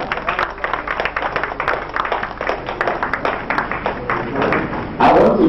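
Audience clapping for a guest speaker at a Nigeria Peace Committee Lagos State Division meeting, with a choppy, pulsing rhythm of many hands. A loud thump lands near the end, and faint voices mix in.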